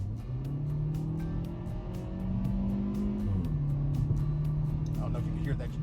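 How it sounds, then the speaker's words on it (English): A 2022 Kia Forte GT's engine drones and climbs in pitch as it accelerates, with a distinct drop and restart of the climb as the transmission shifts gear. "I don't know if you can hear the transmission shifting and everything there too"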